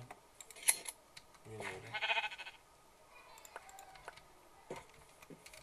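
A black sheep in Minecraft gives a brief bleat or two amid scattered clicks and soft game noise, with a little talk around it.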